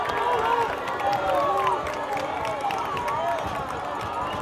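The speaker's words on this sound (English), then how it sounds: "Crowd getting on their feet," Spectators at a high school football game between Bleckley County and West Laurens rising to their feet and making noise, a steady, dense crowd roar with overlapping voices and scattered cheers under announcer commentary throughout.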